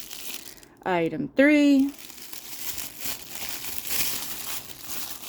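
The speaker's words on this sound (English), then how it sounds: "Sorry for the crinkle crinkle." Plastic packaging crinkles faintly and steadily while an advent calendar item is unwrapped, low and continuous under a short spoken phrase near the start.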